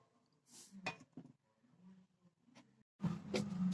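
A lid clinks into place over a bowl of soaking semiya idly batter, with sharp metallic taps and scrapes in a quiet kitchen, then a louder rattling clatter at the end.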